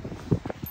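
A small part-pony horse on a farm steps with soft, irregular hoof clops at close range, a few quick muffled thuds in under a second with no talk.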